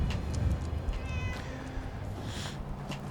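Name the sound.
cat meowing in video game Fallout 4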